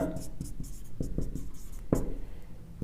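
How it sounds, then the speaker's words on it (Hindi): Chalk or marker writing on a board during a chemistry lesson, short scratchy strokes and taps in an uneven rhythm, heard under a teacher's ongoing speech. "एक बार वापस मैं आपको लिखा रहा हूं, आप साथ साथ में लिखते जाना"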